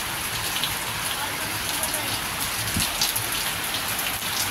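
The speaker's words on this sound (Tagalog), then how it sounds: "Umuulan siya, guys." Steady rain pours onto the roof of a house with a damaged, leaking roof, heard from indoors as a dense, even hiss that holds for the whole stretch, with a few low knocks and faint voices underneath.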